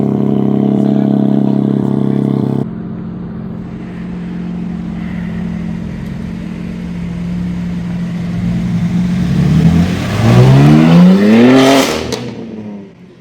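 A car idles with a deep rumble that cuts off abruptly, then a lower hum follows before the engine revs hard, climbing in sweeping rises to a loud peak near the end; no one speaks.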